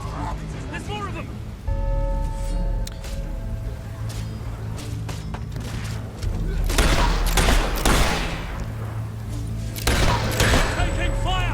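Bursts of gunfire in the video game Fable 3, rapid volleys and scattered shots cracking over a battle scene with music, voices talking over the fighting.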